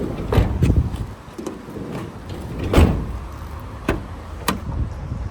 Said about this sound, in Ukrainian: Ці двері також працюють, відкриваються.